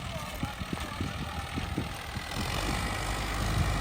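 A Standard tractor pulling a disc harrow through old stubble gives off low, rhythmic thumping engine pulses that merge into a steadier, slightly louder diesel drone toward the end.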